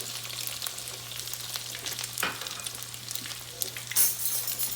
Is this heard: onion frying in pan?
yes